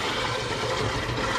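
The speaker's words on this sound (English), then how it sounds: "in goes my dissolved rhubarb and ginger jam and the agave syrup." Dissolved rhubarb and ginger jam with agave syrup pours steadily into a home-brew fermenter, a continuous close gushing, splashing liquid sound with no pauses.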